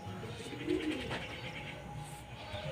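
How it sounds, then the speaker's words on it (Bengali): A flock of black pigeons, with one white among them, coos softly in low, rounded murmurs close by, with faint chirps and rustling around it. "আমার এই একটা কালো পায়রার ঝাঁক উঠছে"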